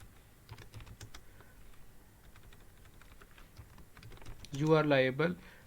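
Someone types a sentence on a computer keyboard, with soft, quick, irregular key clicks at close range. Someone speaks over the end of the typing.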